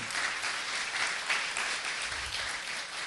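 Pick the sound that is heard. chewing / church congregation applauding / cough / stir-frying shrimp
church congregation applauding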